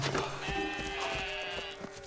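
A sheep bleats in one drawn-out, wavering call lasting about two seconds, fairly close and clear, with no talking, during a muster of a flock on a farm.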